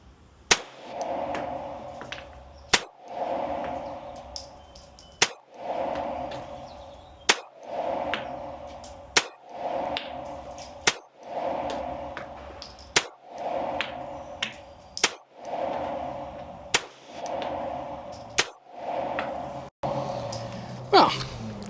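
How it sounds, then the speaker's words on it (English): A Glock 43x pistol fitted with a Radian Ramjet afterburner fires about nine evenly spaced single shots, each a sharp crack followed by a short echoing tail, at a steady pace outdoors on a short range. "let's just do a little bit of shooting, a little bit of accuracy"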